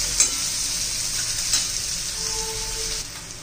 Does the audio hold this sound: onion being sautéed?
yes